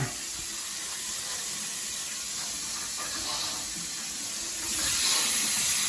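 Shower running at strong pressure in a rural home, a steady broadband hiss of spraying water that holds throughout and swells slightly louder near the end.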